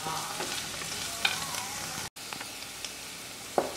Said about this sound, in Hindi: इनको मैं भूंज लूंगी इसके साथ थोड़ी देर।